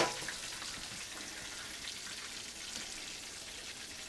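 Breaded chicken cutlets fry in a generous amount of oil in a pan, giving a steady, fairly quiet hiss and crackle that continues throughout with no voices.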